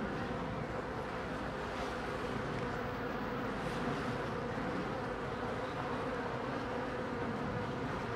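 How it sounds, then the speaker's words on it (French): Honeybees buzz steadily around a beekeeper working hives in cold weather, a dense, continuous drone that holds close and even throughout with no talk. "Une abeille qui est rentrée dans ma manche"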